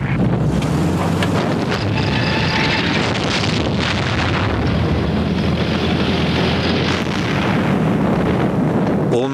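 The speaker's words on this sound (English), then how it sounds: "900 tanks charged into the German flank" A World War II tank battle in 1943 archival footage rumbles with dense, continuous low booms of artillery fire and explosions under a heavy wind-like roar, loud and unbroken throughout.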